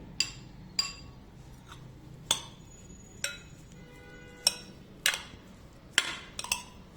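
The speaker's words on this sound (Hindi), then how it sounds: "अब हम सेब, चीकू और केले को मिक्सिंग बॉल में डाल के मिक्स करेंगे।" Apple, chikoo and banana pieces being stirred together in a mixing bowl for a fruit-ball dessert, heard as scattered light clinks of a spoon against the bowl, about a dozen sharp taps at an irregular rhythm over a quiet background.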